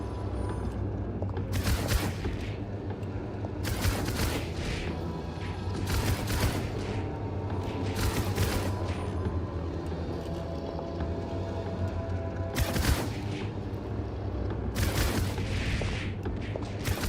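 Gunfire in a video game comes as sharp loud bursts repeating about every two seconds over a steady low background drone, with no talking.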